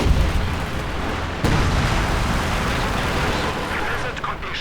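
Katyusha rocket artillery bombarding in a Company of Heroes 2 match, a dense continuous roar of blasts and rumble that jumps louder near the start and stays sustained, mixed with other battle noise.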